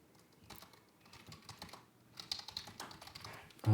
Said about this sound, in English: Just remember what I'm typing here and you will see it shortly.